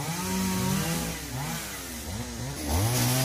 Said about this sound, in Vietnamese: Ở đằng kia thì chú với mấy anh đang cưa thành củi các bạn.